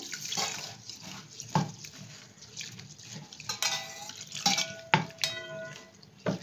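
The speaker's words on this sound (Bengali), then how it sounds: "এবার আমি এই ডালটা খুব ভালো করে ধুয়ে নিচ্ছি জল দিয়ে।" Sona moong dal is rinsed by hand with water in a kitchen, with gentle splashing, swirling and trickling water and a few light clinks of a bowl, quiet and close.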